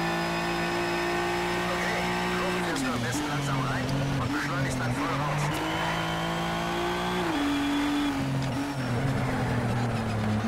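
Race car engine from the PC game Need for Speed Shift 2 Unleashed, humming steadily and shifting pitch with gear changes as it drives, with a voice talking over it throughout.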